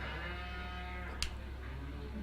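A cow moos in Farming Simulator 2017 with a faint, drawn-out low call over steady game ambience, then a brief click.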